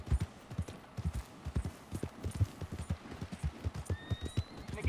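Horse hooves clip-clop steadily at a walking pace in Red Dead Redemption 2, close and continuous, with a brief whinny-like tone near the end and no talking.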